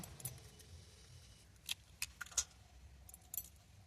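Two eggs cracked for a Christmas cake, giving a few sharp brief clicks and taps close by over a quiet background, with no talk.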